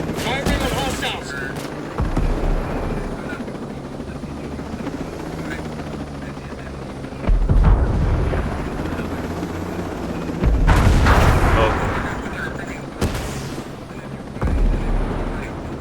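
Gunfire and bursts of combat noise in Ghost Recon Breakpoint, with a helicopter-like engine drone running underneath and several loud bursts; voices talk over the action.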